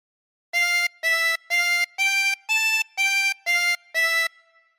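Harmonica plays a phrase of the folk tune All Through the Night as eight even, sustained notes separated by short gaps, clear and close, then fades to silence.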